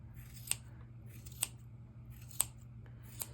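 Scissors trim a yarn pom-pom, giving four crisp, close snips at a steady, unhurried pace over a low background hum.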